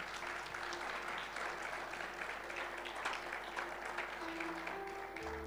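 Steady, continuous applause from a church congregation, moderately distant and fairly even, with faint sustained tones near the end.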